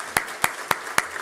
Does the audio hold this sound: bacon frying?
no